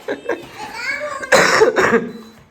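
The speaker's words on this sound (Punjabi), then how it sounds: "ਮੈਨੂੰ ਖੰਘ ਨੇ ਬਹੁਤ ਮੰਦਾ ਹਾਲ ਕੀਤਾ" A couple of short coughs, then two harsh, loud coughing bursts close to the mic, with a voice talking in between.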